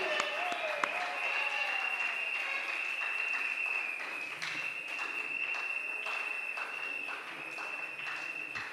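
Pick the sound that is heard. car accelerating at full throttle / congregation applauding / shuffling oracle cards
congregation applauding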